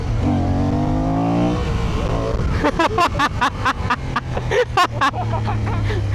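A motorcycle engine revs in second gear during gymkhana riding, a steady drone rising in pitch before sharp choppy bursts as the throttle is blipped repeatedly, loud and close.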